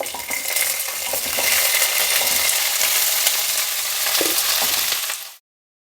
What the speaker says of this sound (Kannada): ಈಗ ರೆಡಿ ಮಾಡ್ಕೊಂಡಿರೋ ಸಾಂಬಾರು ಈರುಳ್ಳಿನ ಹಾಕ್ತಾಯಿದ್ದೀನಿ